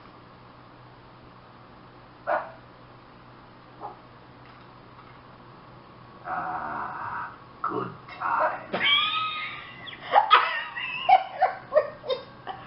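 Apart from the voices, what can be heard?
dog barking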